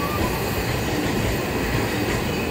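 A Shonan limited express train pulling out of Odawara station, a steady loud rumble of wheels and motors filling the whole span with continuous rail clatter, no voices.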